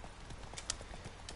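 Horse hooves clip-clopping in The Witcher 3, a quick, regular series of hollow hoof strikes with one sharper knock midway, faint and steady.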